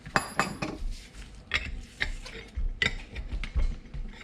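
A ball joint press being cranked down on a pillowball bearing from an FD RX-7, giving a run of close metallic ratcheting clicks and creaks in uneven bursts, with no talk.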